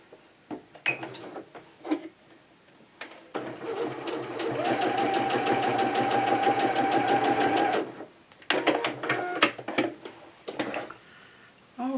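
A sewing machine stitches fabric for a summer top in one steady, close whirring run of about four seconds, with short bursts of handling and clicking before and after.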